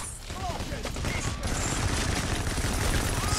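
Automated sentry gun in the Payday video game firing rapid continuous bursts, dense and loud, with faint game sounds scattered around it.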